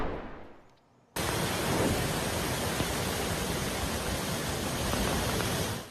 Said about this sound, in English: there's a lot of rain on our camera out there, as there is everywhere across the Southland